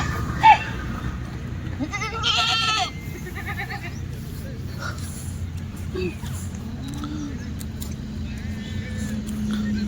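Several goats bleat in a farm pen, with a couple of short, wavering calls near the start among low background noise and someone talking nearby.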